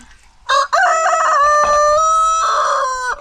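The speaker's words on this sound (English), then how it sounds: "You can hear the cock crowing." A rooster crows at a home with cocks and hens kept as livestock, one long loud call held near and clear, with a brief squawk just before it and nothing else heard.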